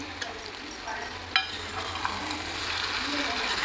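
Ground dry-roasted fenugreek and mustard powder stirred into lemon pickle in a pot, a soft continuous scraping and stirring with faint sizzle-like texture, steady and close, no voices.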